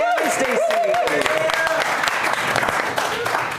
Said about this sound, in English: And keep that applause going for number 2 and number 3, Sam and Stacy.